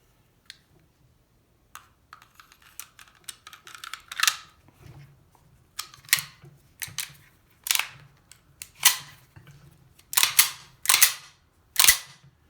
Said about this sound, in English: Barrel back into the slide.